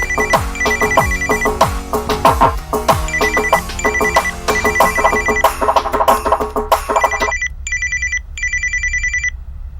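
A telephone rings in a repeated electronic ringtone pattern, loud and close, sounding alone for several cycles before cutting to shorter bursts.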